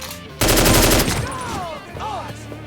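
Gunfire in the Mafia III video game, a dense loud burst of rapid shots lasting about a second, then fading into quieter game sounds and effects.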